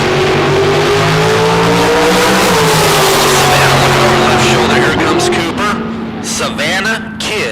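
A drag race at a big-money bracket event, with a white dragster roaring under a loud announcer's voice, engine tone sweeping as it launches and the crowd and track noise swelling behind.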